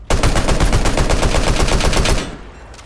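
Rapid automatic gunfire from a Fortnite match, a loud, dense burst of shots fired in quick succession for about two seconds before cutting off.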